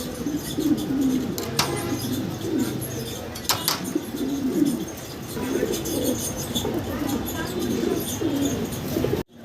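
Fancy pigeons at a breeder's loft cooing in repeated low, soft phrases, with a few brief wing flutters and light chirps mixed into the moderate background.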